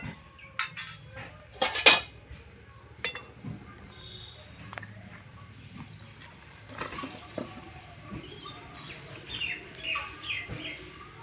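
Metal clatter of a lid being lifted and a pan of soybean chunks and potatoes taken off the stove, with a few sharp clanks early on and then quieter kitchen knocks and shuffles; no talking.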